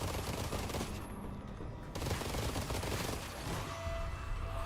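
SMG fire in the game Armatus, rapid bursts of automatic shots over a dense, busy background, fairly loud and continuous across several seconds with no talking.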